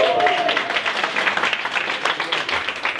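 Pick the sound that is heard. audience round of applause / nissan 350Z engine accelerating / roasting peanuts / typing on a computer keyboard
audience round of applause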